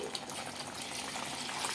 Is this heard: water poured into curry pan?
yes